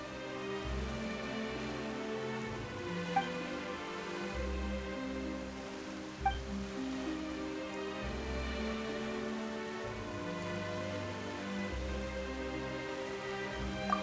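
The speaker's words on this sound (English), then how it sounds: "Why is it raining all of a sudden?" Rain pours down steadily in a fantasy role-playing video game, a continuous hiss under a soft musical backdrop with a few faint distinct drips.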